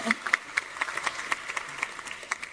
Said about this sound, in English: So please give yourselves a big hand